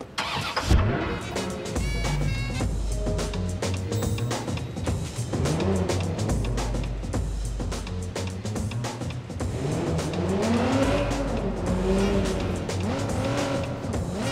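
A car in the Watch Dogs 2 video game starts up and drives off, its engine revving and whining steadily and loudly, with tire squeal mixed into continuous game sound for most of the span.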